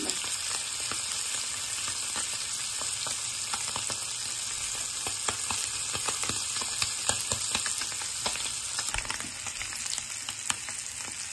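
Small fish sizzling in hot oil in a pan, a steady bright crackle and spatter with scattered pops, continuous and close with no voices.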